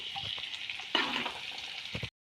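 Prawns fry in oil in a pan, giving a steady soft sizzle with a sharper crackling burst midway and a few stirring clinks before it stops abruptly.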